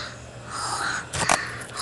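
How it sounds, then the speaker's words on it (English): Heavy, wheezy breathing pushed right into a phone's microphone, a steady rasp rising into a sharper, louder gust near the end, with no talking. "A lot of breathing there."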